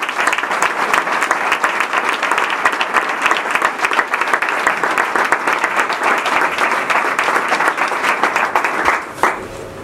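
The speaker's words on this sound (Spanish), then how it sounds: "os pido por favor un aplauso para ellos" Sustained applause from a sizable audience at a final political rally for the 2011 Spanish municipal elections, dense and steady clapping that holds for several seconds before thinning out near the end.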